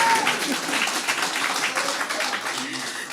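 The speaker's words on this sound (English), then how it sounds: "So give yourself a round of applause." Applause fills a ceremony hall in Central and South Eleuthera, a steady wash of many hands clapping for a few seconds with voices and crowd murmur mixed underneath.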